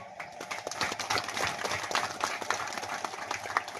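A crowd claps for women farmers at a seed exchange fair, dense rapid applause continuing steadily for several seconds at moderate distance, with no talk over it.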